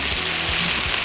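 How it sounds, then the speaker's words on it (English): Steaks sizzle in a hot pan while being basted with butter, garlic and rosemary, a dense continuous close-up frying hiss with faint spoon movements underneath. "So now we're gonna baste the steaks."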